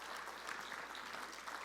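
An audience at a financial services expo keynote applauds in a dense, steady wash of clapping that sounds quiet and somewhat distant.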